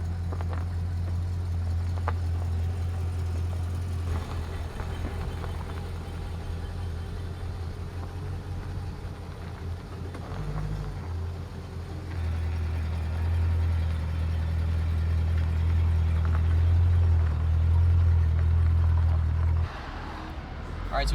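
A widebody Mercedes SL500 R129 idling and being backed out and driven, its engine a steady low rumble that swells louder partway through, with people talking over it.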